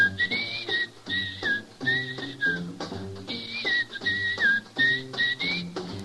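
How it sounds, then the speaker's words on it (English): A person whistles a bright melody along with a jazz band, the whistled line rising and gliding over steady brass and rhythm accompaniment in phrased bursts. "How about whistling along with him?"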